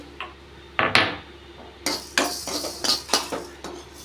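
Roasted fenugreek seeds pounded in a stone mortar with a pestle, a few sharp, irregular knocks and grinding scrapes, close and fairly quiet, with no one talking.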